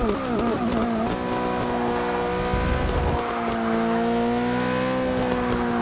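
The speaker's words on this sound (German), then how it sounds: "Ich glaube auch fast, dass alle Vierzylindermotoren ähnlich klingen." Four-cylinder car engine in Forza Motorsport 6 (Polo Red Car Pack), a steady loud drone with rising and falling revs and gear changes throughout, continuous and close with no talk.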